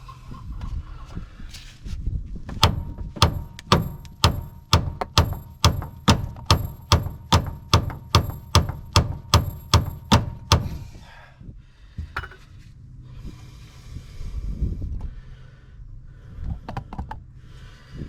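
Gentle hammer taps on the near-side track rod end of an Omega Elite: a quick, steady run of about twenty ringing metallic knocks, fairly close, then a few scattered clanks as the work stops.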